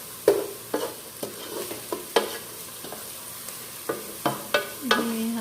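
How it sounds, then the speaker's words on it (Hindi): Slices of bitter gourd (karela) shallow-frying in a little oil, a soft sizzle broken by repeated sharp scrapes and knocks of a spatula stirring in the pan, close and with no talking. "करेले को जो है वो फ्राई कर लेंगे।"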